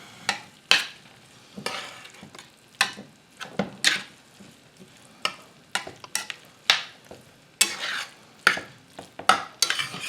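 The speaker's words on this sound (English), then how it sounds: "Okay, now we just stir this up." Sloppy joe ground beef in sauce being stirred in a pan: close, irregular scraping and squelching strokes of a spoon against the pan, with short pauses between bursts and a soft sizzle underneath.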